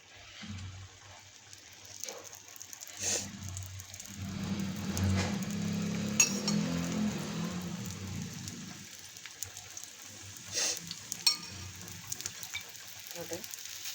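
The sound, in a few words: thalipeeth frying in oil on a tawa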